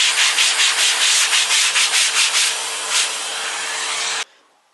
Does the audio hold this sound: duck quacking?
no